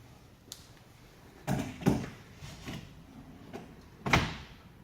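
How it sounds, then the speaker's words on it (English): Cabinet drawer being slid into place on its slides, a series of soft knocks and rolling bumps with one firmer thud near the end, close by with quiet gaps between. "your drawer should just slide perfectly in there"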